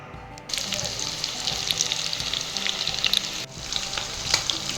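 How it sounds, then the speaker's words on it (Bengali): Marinated chicken fries in hot oil in a wok, giving a steady, close crackling sizzle with bright spitting pops throughout and a brief dip partway. "কড়াইতে তেল গরম করে আমি সেই ম্যারিনেট করে যে চিকেনগুলো ওইগুলো একটা দিয়ে ভেজে নেব"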